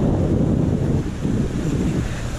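Strong wind buffets the microphone over the steady roar of ocean surf at a cold California beach, loud and constant with no voices.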